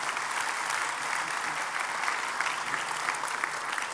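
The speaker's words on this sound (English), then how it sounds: "Round of applause for the Senator." An audience at a gala dinner applauding a senator, a steady, even wash of many hands clapping, moderately loud and unbroken.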